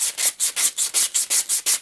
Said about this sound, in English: Just a little bit of sanding, you can see the difference.